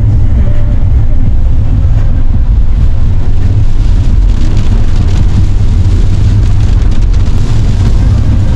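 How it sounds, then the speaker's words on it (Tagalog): Loud, constant roar of heavy rain in Ilocos Norte, Philippines, mixed with wind buffeting the microphone, unbroken throughout. "Grabe ang lakas ng ulan."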